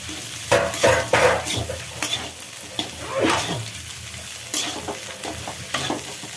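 Boiled potatoes frying in a pan for samosa stuffing, with steady sizzling broken by repeated scraping strokes of a spoon stirring and pushing the filling around, close and fairly loud, no talking.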